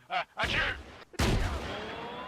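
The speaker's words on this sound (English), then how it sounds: "Vesper, you have an RPG. Oh. I shoot!" An RPG rocket launcher fired in a video game: a sharp, loud blast that rings out in a long decaying tail, following an earlier burst of game noise, with players talking around it.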